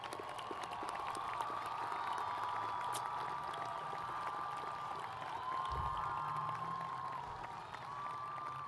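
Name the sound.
audience applause for STEM majors at graduation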